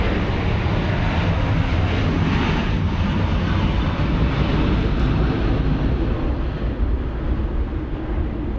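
Jetstar airliner landing at Sydney Airport, a loud continuous broadband engine roar that stays steady throughout with a dense, rumbling low end.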